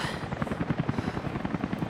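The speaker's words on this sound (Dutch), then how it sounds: "Een helikopter daar." Helicopter in Rise of the Tomb Raider, a steady rapid rotor chop thudding over a whooshing engine roar, moderately near and continuous.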